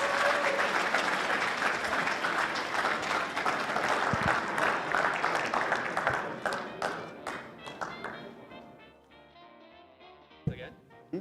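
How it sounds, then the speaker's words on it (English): An audience applauds after a Pictionary round at a grand-finals event, with loud sustained clapping and cheering that thins out into scattered claps and taps over several seconds. "Another round of applause."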